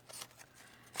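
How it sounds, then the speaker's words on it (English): Regular scissors snip through paper for a papercraft project, with a few soft crisp cuts followed by a sharper close snip at the end, quiet and without speech. "So I took my regular scissors,"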